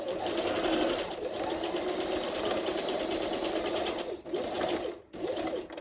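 A sewing machine back stitching along a sleeve seam runs steadily and close, its motor whirring with rhythmic needle clatter, briefly pausing near the end as it reverses direction before resuming.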